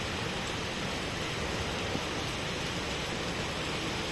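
Rain falls at night in a steady, even hiss, a broad continuous wash of water that holds at the same level throughout with no voices heard.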